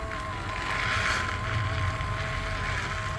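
The motor of a PetPivot Autoscooper 11 self-cleaning litter box runs with a quiet, steady whirring hum that holds an even level throughout.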